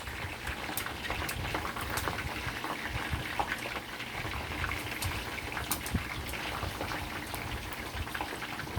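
Chicken feet fry in hot oil on a stove for dim sum-style cooking, giving a dense, continuous crackle and spatter that holds steady throughout.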